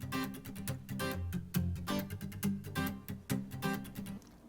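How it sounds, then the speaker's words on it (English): Strummed acoustic guitar with Lemongrass muted effect chords in a light, whimsical cue: short, choppy, rhythmic muted strums following the main chords, moderately quiet and steady with no voices. "we've gone with lemongrass muted effect chords, which sound like this"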